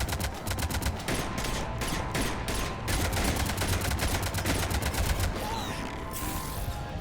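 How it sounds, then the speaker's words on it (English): Rapid, sustained bursts of cannon fire from the Mass Effect 3 game, a dense rattling barrage that stays loud and continuous with a brief lull near the end. "Cannons engaging."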